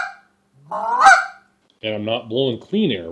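A short reed honker goose call imitating a Canada goose, giving sharp honking calls, one rising note then a quick run of three, loud and close, with someone speaking briefly.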